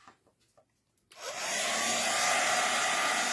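A heat tool drying ink on a card switches on after a few soft taps and runs as a steady, loud blowing whoosh close to the microphone until the end.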